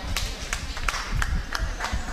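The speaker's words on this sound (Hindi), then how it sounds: "एक बार जोरदार तालियां बजा दीजिए दद्दू के लिए" Sparse, fairly slow handclaps from a small open-mic poetry audience, individual claps spaced out rather than a full ovation, with some low background murmur.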